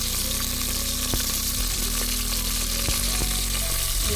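Mustard seeds and dried red chillies fry in hot oil for Chettinad kalani mandi. A dense, continuous sizzle is heard close up with sharp crackles and pops from the seeds, and nobody is talking.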